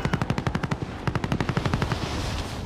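Rapid automatic gunfire in Call of Duty: Warzone, loud close bursts of rhythmic shots firing steadily through the whole stretch, the repeated cracks continuing without a break and with no talk over them.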